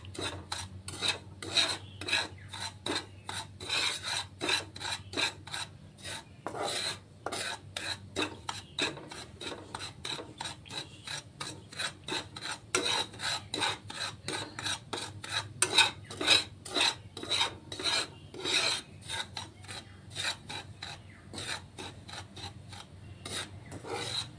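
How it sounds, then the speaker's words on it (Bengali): Semolina stirred in a little oil in a pan, a spoon scraping with a steady, rapid rasping rhythm, close and fairly loud, continuous with no voices. "ভালো করে এই তেলের মধ্যে নেড়ে নিচ্ছি সুজিটাকে"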